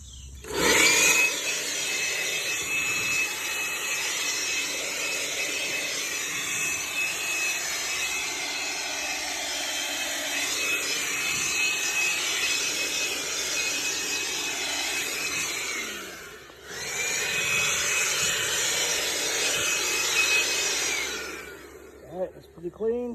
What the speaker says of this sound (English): got my little Ryobi blower